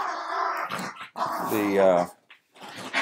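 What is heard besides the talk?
dogs growling and playing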